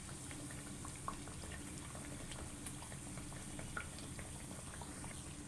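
Parotta deep-fries in hot oil until golden, producing a faint, steady bubbling sizzle with scattered small crackles throughout and no voices.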